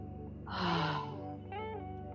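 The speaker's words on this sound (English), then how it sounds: "Breathing in nice and big, and then let it all out nice and loud." A deep, loud, breathy exhale during a chi breathing exercise, swelling then trailing off, followed by a softer voiced breath, close and alone.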